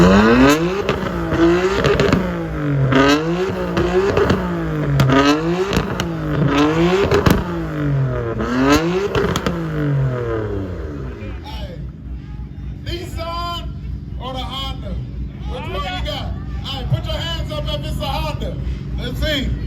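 A Nissan GT-R's exhaust revs hard at an annual car show in a string of rising and falling roars. The engine then settles while a crowd talks and shouts nearby.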